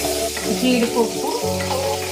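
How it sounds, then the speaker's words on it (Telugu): Cashews and almonds frying in hot oil while tempering for a wheat rava upma with amaranth leaves, giving a steady close sizzle with bubbling crackles and no talking. "బాదం పప్పు వేయించుకుంటున్నానండి"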